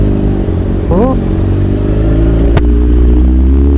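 A motorcycle rides through close, congested traffic, its engine a steady loud drone with nearby vehicle noise, a brief rising whine around one second and a sharp clack midway, with the rider's voice present.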